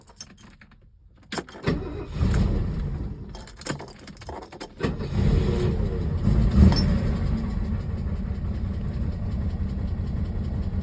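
A 1968 Mercedes-Benz 230 with a freshly repaired Zenith carburetor: a key jingle and clicks, then the engine turns over and settles into a loud, steady idle close by.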